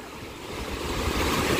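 Sea waves surge ashore and draw back along a coastline, a loud continuous roar and wash that builds slightly, with wind buffeting the microphone.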